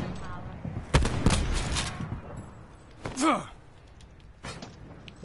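Sniper shots in a video game crack out as a few sharp, separated reports, some close and some farther off, with players talking and reacting over them.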